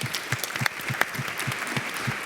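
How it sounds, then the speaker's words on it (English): An audience at a virtual reality conference panel claps in a brief burst of applause, the individual claps close and distinct over a few seconds. "Let's give him a round of applause."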